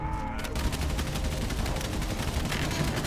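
Rapid bursts of gunfire from the World War I video game Valiant Hearts, dense and continuous at steady loudness, with a hint of voice in the mix.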